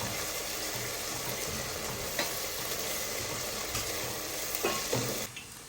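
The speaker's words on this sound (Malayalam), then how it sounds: "ഇതിങ്ങനെ ഇടയ്ക്കിടയ്ക്ക് ഇളക്കി കൊടുക്കണോ? ഞാൻ ഇളക്കായിരുന്നോളൂ അവിടെ." Onions sautéing in a pan, a continuous close frying hiss with occasional stirring scrapes, the sizzle dropping away abruptly at the end, no voices heard.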